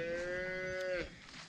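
A dairy cross heifer lets out one long, loud, close moo with a clear tonal pitch, ending abruptly and leaving quieter farmyard background.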